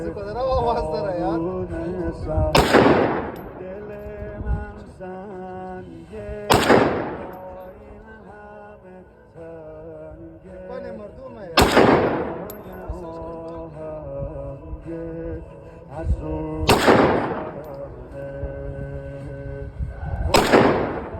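Gunshots at an outdoor shooting range ring out in five sharp, widely spaced reports, each followed by a short echoing tail, while people talk and chatter between the shots.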